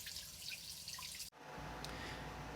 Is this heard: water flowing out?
yes